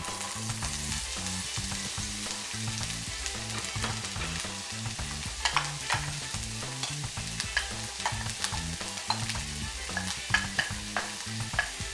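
Onions sauté in a hot pan with a steady, fairly close sizzle and frequent scraping stirs, continuous throughout with no one speaking.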